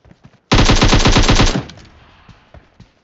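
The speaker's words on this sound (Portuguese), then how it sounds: "Ah, tá, agora tem tiro." A loud, rapid burst of automatic gunfire in PUBG Mobile lasts about a second, followed by fading echoes and a few scattered distant shots.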